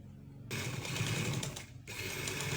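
A sewing machine runs in a steady rapid whir while stitching the folded placket strip of a shirt. It pauses briefly and then starts again, close and continuous, with no voices.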